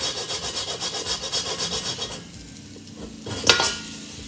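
Frozen ginger is grated in quick, rhythmic rasping strokes for about two seconds. Quieter handling noises and a short sharp clink follow.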